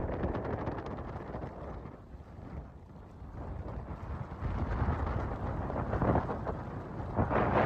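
Rain pours down outdoors at the Kanva backwater, a steady, broad hiss with rumbling gusts of wind on the microphone that swell louder toward the end.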